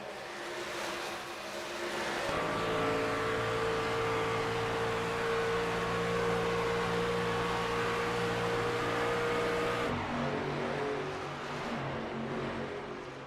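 Race car engines droning at steady high pitch in a racing video game on the Las Vegas oval, a continuous loud whine that shifts tone near the end as cars pass.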